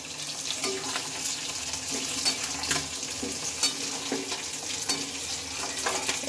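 Chopped tomato fries in a pan and gets stirred, a close crackling sizzle broken by repeated scraping and clattering knocks at an uneven rhythm, with no one speaking.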